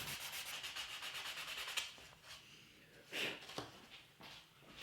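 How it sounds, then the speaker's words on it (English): Sandpaper at 220 grit rubbing over the wooden bracing of an acoustic guitar soundboard, steady back-and-forth scratchy strokes close up with a few louder swipes, no talking. "When I'm happy with everything, I sand it all down to 220 grit to make it look nice."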